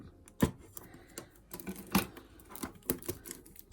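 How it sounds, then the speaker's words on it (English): Plastic wrap peeled off a new Cricut Joy cutting machine during unboxing, a series of sharp crinkling snaps and rustles at close range, with two louder tearing bursts amid quieter crackles. "take the plastic off this"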